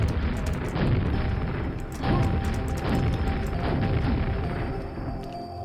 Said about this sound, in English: Wait, what about a double rocket jump?